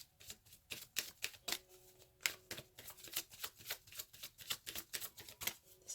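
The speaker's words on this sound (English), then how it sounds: "Let's pull some oracle cards." A deck of Romance Angels oracle cards is shuffled by hand, making a run of quick riffling and slapping card sounds in an uneven rhythm, close and fairly quiet, with no talking.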